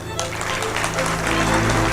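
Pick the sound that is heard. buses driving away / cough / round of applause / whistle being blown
round of applause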